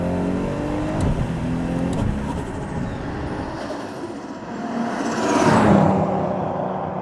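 A Nissan Skyline GT-R with an automatic transmission, running about 18 pounds of boost, accelerates hard. Its engine drones loud and close from inside the cabin, and a shift kick is followed by a rising surge toward the end.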